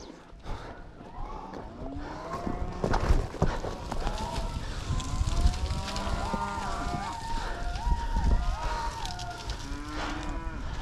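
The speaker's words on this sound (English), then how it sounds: "Hey, cattle! Hey! Hey! Hey! Get down that mountain!" Cattle low again and again as a herd moves down a mountain trail. The moos overlap, some drawn out and some rising, against scuffling hooves and outdoor noise. A person's voice can be heard faintly in the mix.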